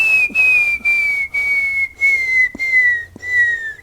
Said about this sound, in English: The canyon wren has this beautiful song that does